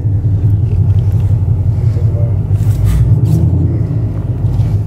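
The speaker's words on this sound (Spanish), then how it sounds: "cómo rumba el carro de mi hijo" A son's car rumbles steadily while driving on the road toward Monterrey, Nuevo León, a deep continuous low engine and road drone held at an even level from start to finish, with no talking.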